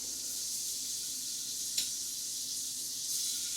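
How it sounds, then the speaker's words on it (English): Shrimp sizzle in a hot pan with a steady, close hiss, broken by one faint clink partway through, with no voices. "we're ready to toss these shrimp in there. Let's go right ahead. And you should immediately hear it sizzling."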